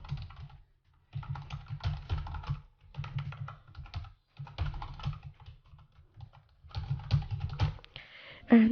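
Fingers typing on a computer keyboard in bursts of quick, close key clicks separated by brief silent pauses, entering an email address during online sign-up.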